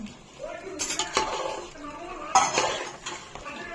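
Amboor chicken biryani with lemon stirred in a pot, with a few clanks and scrapes of a metal spoon against the vessel over a faint sizzle, close and intermittent.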